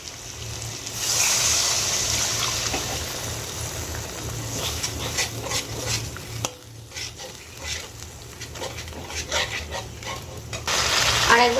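Water goes into a pan of fried masala for a pointed gourd (potol) curry, giving a loud, steady sizzle and hiss with stirring scrapes throughout; the sizzling quietens briefly before it surges again.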